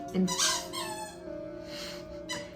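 A puppy squeaks a Halloween bat squeaky toy a few times in quick bursts, close by, with a steady tonal hum running underneath and no talking.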